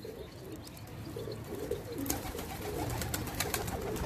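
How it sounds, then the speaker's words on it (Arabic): Pigeons cooing softly amid busy bird chatter and scattered chirps, in a loft or coop setting, with low background rumble and no talk. "خطيه مجوعين الطيور"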